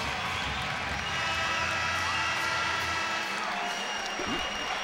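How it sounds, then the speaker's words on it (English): A basketball arena crowd at a 2014 men's college game between UVU and New Mexico State applauds military service members, a steady wash of clapping and cheering that sounds distant and diffuse and continues without a break. "Give them a round of applause, please."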